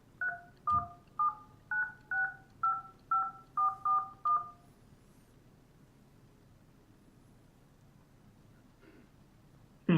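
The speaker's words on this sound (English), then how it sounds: "Please enter your registered support phone number." Ten crisp two-tone telephone keypad beeps tapped out in a quick, even rhythm as a phone number is keyed in on an automated support line, then near silence with a faint thump at the end.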